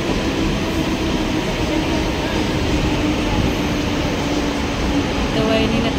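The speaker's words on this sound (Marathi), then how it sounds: "बघू शकता पनवेल जाणारी ट्रेन आली." A local train bound for Panvel rolls into a station platform, a steady loud rumble and rattle of wheels and carriages that holds throughout without a break.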